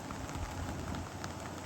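Steady rain pours down on a wet riverwalk in Conway, South Carolina, a dense close hiss of drops striking surfaces and an umbrella with no voices.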